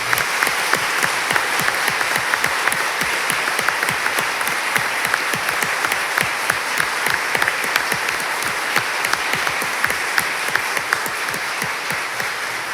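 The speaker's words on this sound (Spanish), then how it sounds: "Aplaudamos este logro." A courtroom audience applauds newly sworn-in lawyers at a Supreme Court ceremony, with loud, continuous clapping from many hands that holds evenly without pause.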